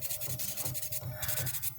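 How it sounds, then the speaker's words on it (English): Close, steady scratchy sanding on plastic model kit parts for a Macross Queadluun Rau, smoothing away seam lines in repeated back-and-forth rubbing strokes with no talking. "I'm basically just sanding down a bunch of stuff"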